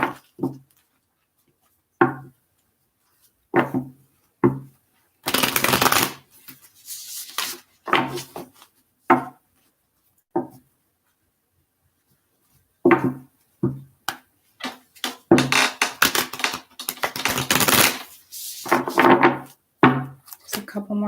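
A deck of tarot cards shuffled by hand, close and crisp, with a string of short snapping taps broken by longer riffling rustles and pauses between.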